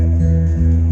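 A guitar played without palm muting, in a bluegrass alternate-picking style, lets its strings ring freely: sustained, overlapping notes blend into a steady, full tone for about a second.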